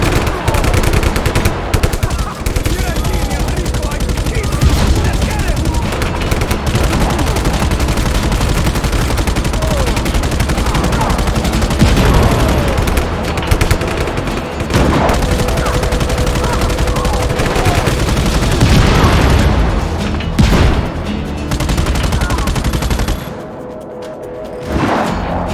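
A tank cannon fires amid heavy Just Cause 3 combat, with dense continuous gunfire, booms and explosions in a loud, unbroken wall of battle noise.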